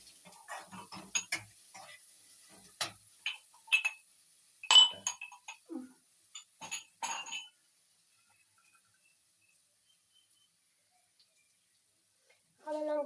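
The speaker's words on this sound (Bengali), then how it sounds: "একটু নেড়ে নেবো।" Chicken being stirred in a cooking pan with ginger, chilli and cumin paste, a utensil giving a few light, scattered clinks and scrapes against the pan, close but soft, before falling silent.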